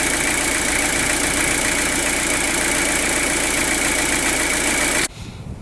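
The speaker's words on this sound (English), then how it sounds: "Just give you another shot of the engine." Citroen BX petrol engine idling close by, a steady loud mechanical hum and rattle that cuts off abruptly near the end, no voices.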